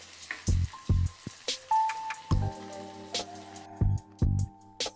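Tempering spices frying in hot oil for a Malabar spinach dal, giving a close, crackly sputter with scattered popping bursts and short tonal squeaks.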